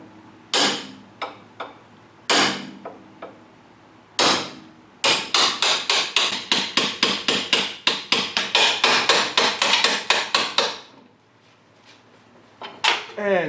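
A hammer strikes an axle being driven into a Ford 9 inch rear end: a few spaced blows, then a fast run of sharp metallic hits, a pause and two more strikes, loud and close.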